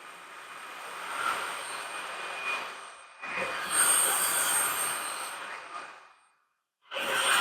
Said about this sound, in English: We're on the high suction level. This thing has a lot of power.